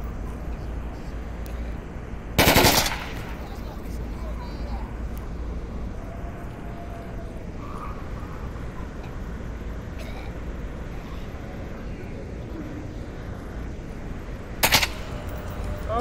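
In a virtual reality shooting game, two short, loud bursts of gunfire ring out several seconds apart over a low room hum while players talk.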